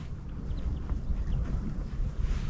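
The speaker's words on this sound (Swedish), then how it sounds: "Mycket vind." Loud, blustery wind roars into the microphone on a golf course, a continuous rough buffeting that fills the whole moment without any talking.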